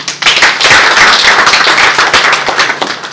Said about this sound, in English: He deserves a better clap.